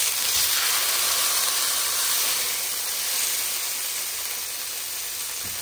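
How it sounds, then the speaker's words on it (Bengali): Steady, bright sizzle of salmon frying in hot oil in a pan, a continuous hiss that stays fairly loud and even throughout, with no talking. "2 মিনিট করে ভাজলেই এই মাছটা হয়ে যায়"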